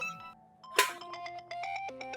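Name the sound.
mobile phone ringtone, incoming call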